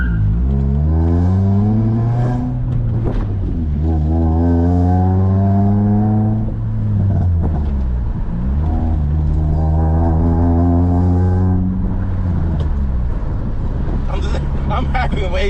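A Honda Prelude with a manual gearbox accelerates on the road, its engine note climbing in pitch, dropping at each gear change and climbing again, loud and close from inside the car.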